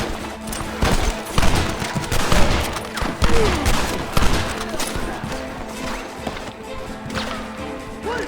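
Dense, rapid volleys of gunfire in the Red Dead Redemption video game, shots overlapping with cracks and smashes throughout, loud and close, with brief voices mixed in.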